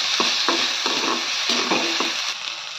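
Sago pearls roasting in ghee in a pan give a steady bright sizzle, with a spoon scraping through them in regular strokes roughly every half second, close and fairly loud.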